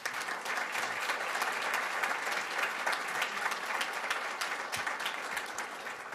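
An audience at a school board meeting applauds an honoree with sustained, even clapping from many people, moderately distant and steady from start to finish.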